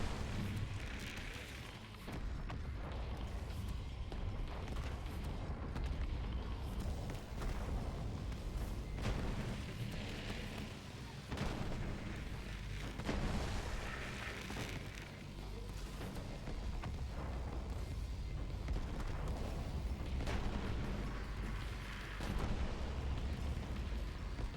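Rumbling explosions and booms from the video game Super Mario Galaxy, played by Iron Bear, rolling continuously at moderate volume with repeated bursts and no talk over them.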